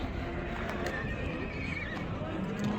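A horse whinnies over a noisy outdoor livestock market background, with hoof clops and people talking nearby.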